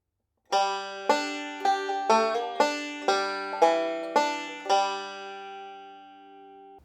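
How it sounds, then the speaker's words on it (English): A bluegrass banjo picks the G lick in about nine bright, evenly spaced plucked notes, each decaying quickly, with the last note ringing out alone. "what is the most common bluegrass banjo lick there is"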